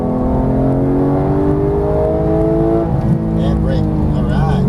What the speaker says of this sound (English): squeeze the throttle, accelerate